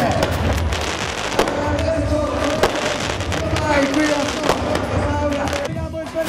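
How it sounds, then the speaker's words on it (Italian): Fireworks go off at the start of a nighttime running race event, with irregular sharp pops and crackles over a constant crowd hubbub while an announcer talks throughout. "i fuochi d'artificio per la partenza della manifestazione"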